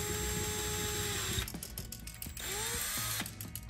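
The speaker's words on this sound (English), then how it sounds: "I gotta drill a hole right through the plastic right here" A power drill whines and grinds in short bursts through plastic on a robotic fish toy, starting with a continuous hum then stuttering and revving as it bites through, close by.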